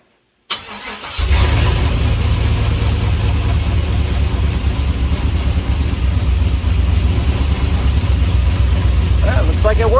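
An LS swap engine in a 1955 Buick Special cranks briefly and catches, then settles into a loud, steady, deep idle close by, with a person speaking near the end.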